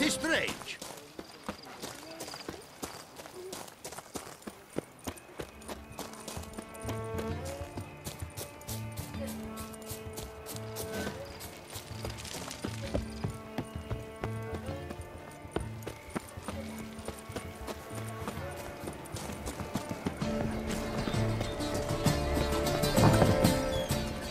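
Horse hooves clip-clop in The Witcher 3 as a steady rhythmic patter under background music and in-game tavern chatter, staying at a moderate level for the full stretch.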